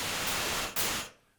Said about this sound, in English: when I play the keyboard, I'm going to hear an intense white noise sound